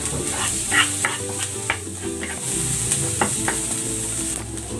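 Ginger, garlic and onion sauté in a pan with a constant close sizzle, broken by several sharp clinks and scrapes of stirring, and no voices.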